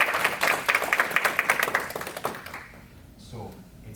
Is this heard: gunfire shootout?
no